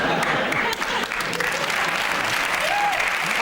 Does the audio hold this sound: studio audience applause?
yes